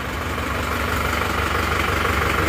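A cold Toyota Panther diesel engine idles steadily with a continuous low rumble and knocking clatter, close and alone throughout.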